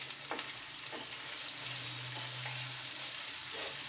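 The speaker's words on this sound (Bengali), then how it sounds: "পেঁয়াজটা ভাজা হবে এবার লাল লাল করে" Onion, garlic and ginger frying together in a pan for chicken curry, a soft continuous sizzle with intermittent stirring scrapes and a brief low hum in the middle.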